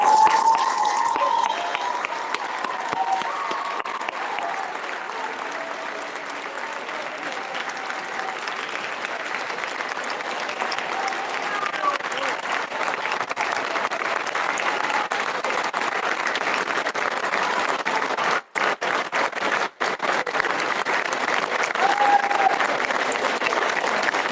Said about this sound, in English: Let's give one more round of applause for all these people.